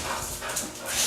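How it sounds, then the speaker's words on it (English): Dogs whimper and yip happily in a brief, close burst of excited greeting, sounding over a rough, noisy background. "Looks like the dogs are happy to see you."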